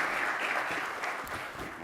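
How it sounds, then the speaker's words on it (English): Audience applause at a sustainable infrastructure session of a development bank's knowledge week, a steady wash of many hands clapping at moderate, even level throughout, with no talk over it. "we can give her a round of applause"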